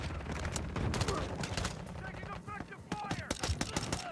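Gunfire in a shooter video game crackles in rapid, dense bursts of sharp shots that keep going nearly the whole time, close and loud over a busy game background.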